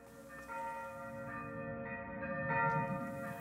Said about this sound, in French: Écoutez, ce sont les cloches de Saint-Michel de Coutchat.